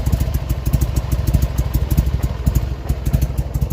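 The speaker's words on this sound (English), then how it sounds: "And I have an idle." A motorcycle engine idles close by in a steady, rapid, slightly uneven chugging beat with a metallic clatter, heard alone without talk.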